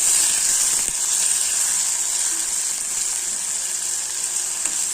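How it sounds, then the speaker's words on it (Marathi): Onion, curry leaves and tomato sizzle in a pan for a Marathi cluster-bean vegetable dish, giving a constant bright hiss with an occasional soft clink as they are mixed. "कांदा टाकायचा कढीपत्ता टोमॅटो टाकायचा छान मिक्स करून घ्यायचं"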